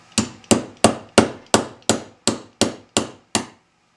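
About ten sharp, evenly spaced taps ring out as a nylon punch drives a rear sight into place on a Caspian build. Each strike is loud and close with a quick decay, stopping cleanly after the last blow.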